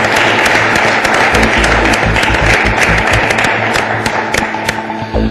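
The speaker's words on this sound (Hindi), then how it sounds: "बहुत सारी तालियां इब्राहिम के लिए" A television studio audience applauds contestant Ibrahim on a game show, loud sustained clapping with dull thumps and scattered sharper claps that thins slightly toward the end.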